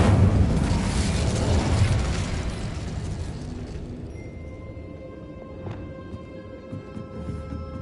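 An Incendio fire spell is cast in Hogwarts Legacy, a loud, roaring burst of flame that swells at once and then slowly dies away into a faint crackle and hum.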